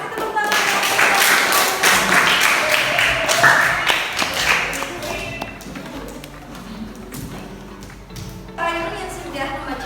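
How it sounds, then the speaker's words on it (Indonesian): An Indonesian classroom or workshop audience claps in a loud burst of applause that gradually fades, with speech continuing over and after it. "Kasih tepuk tangan."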